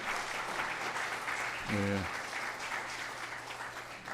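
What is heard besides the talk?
congregation applauding to welcome guests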